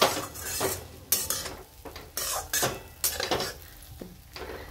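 Jaggery sheera being scooped from a pan: a series of close, irregular scraping and stirring strokes, each a short rasping burst with brief quiet gaps between them, and nobody speaking.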